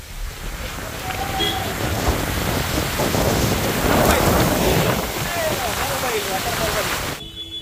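Steady heavy monsoon rain roars outdoors at Malshej Ghat with wind buffeting the microphone, a constant wash of noise with faint voices and small sounds mixed in.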